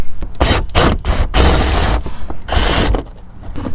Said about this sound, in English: we're going to use a 3/8 socket on the back side there on the nut to remove that.